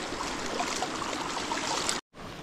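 Floodwater rushes across a flooded rice paddy in a steady, close, full-bodied wash of flowing water that cuts out briefly near the end before resuming.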